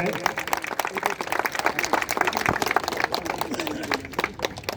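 Crowd applause at an outdoor Independence Day gathering in a park, dense steady clapping filling the whole stretch at close range, with no break.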